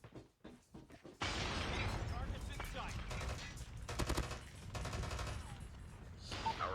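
Holger machine gun firing at a turret in Call of Duty Modern Warfare, rapid bursts of automatic gunfire with rattling shots after a brief quiet start, with a voice also heard.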